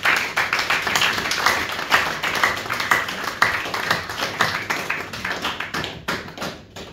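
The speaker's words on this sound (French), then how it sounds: "Nous acclamons très très très fort pour la parole de Dieu" A church congregation applauds loudly and steadily for the word of God, a dense crowd of clapping hands that keeps up for several seconds and then thins out toward the end.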